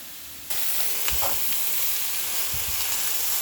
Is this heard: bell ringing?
no